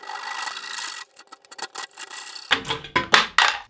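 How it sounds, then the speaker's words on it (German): A Japanese pull saw cuts through a plastic cable duct in quick, rhythmic rasping strokes, first as a steady scraping run, then as short, separate sawing pulls, close and loud with no talk. "Schön mit der Japansäge den Kabelkanal ablängen."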